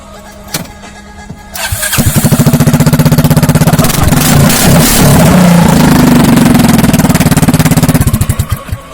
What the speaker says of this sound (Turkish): Şimdi egzozsuz çalıştırıyoruz skuterı.